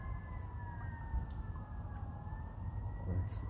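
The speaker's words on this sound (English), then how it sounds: "sirens again." Sirens wail faintly in the distance beside a canal, their rising and falling tones drifting over low traffic rumble and outdoor background noise.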